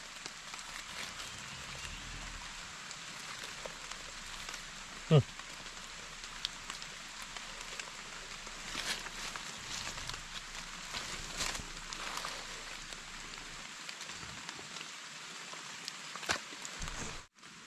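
Steady rain patters on a surface in a continuous soft hiss, with a few louder knocks and low rumbles.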